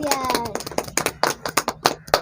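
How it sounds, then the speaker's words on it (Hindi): Hands clapping at a child's birthday, several sharp claps settling into a steady rhythm, close and clear, with a voice speaking over the opening moments. "तालियां"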